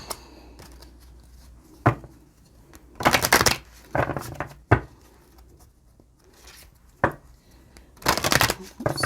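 Wisdom of the Wild Things oracle cards being shuffled by hand, irregular bursts of riffling and flicking separated by quieter pauses, close and crisp, with no talking over them.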